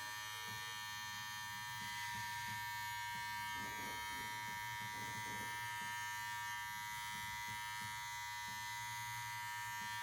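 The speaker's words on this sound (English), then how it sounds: "you want to angle the clipper" Electric hair clipper trimming a man's beard at home, a steady close buzzing hum running throughout with small shifts in tone as the blades move across the hair.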